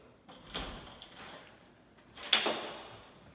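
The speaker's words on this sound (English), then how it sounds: "This is the door for the AC filter." Door of an AC filter compartment being opened, a soft scraping slide followed by a sharper clunk and rattle, close by, with no talk.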